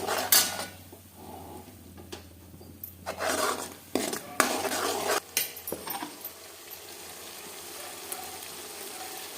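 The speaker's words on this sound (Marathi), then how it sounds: "तेलात व्यवस्थित मसाला परतून घ्यायचा" A spoon scraping and knocking in a kadhai as masala of ground red chilli, peanuts and garlic is sautéed in oil, with irregular metallic clatters and scrapes over a low background hum and no speech.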